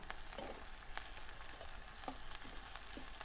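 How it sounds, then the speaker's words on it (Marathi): Green chilies and chopped onion sizzle in hot oil as tempering for egg bhurji, a steady crackling fry with occasional stirring scrapes, close and quiet, with no talk. "आता मिरच्या आणि कांदा याची आपण फोडणी घेतली"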